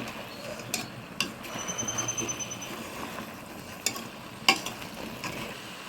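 Mixed vegetables with home-ground kuzhambu spice powder stirred in a pan for a vegetable kootu kuzhambu: a steady soft scraping and sizzling hiss with a few sharp utensil clicks against the pan, close by, with no voices.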